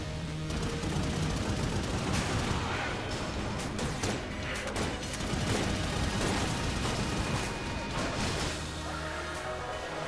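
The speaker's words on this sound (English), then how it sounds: "Let's see if we can do some damage with the Yari launcher here." Yari launcher firing in the Enter the Gungeon video game: a dense, continuous barrage of rapid shots, crashes and blasts, loud and close throughout, with no pauses and no talking.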